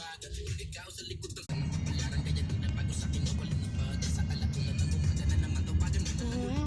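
A car drives past on a road in Cavite, a sudden loud swell of engine and tyre rumble that stays close and steady, following a moment of quieter background with a voice speaking.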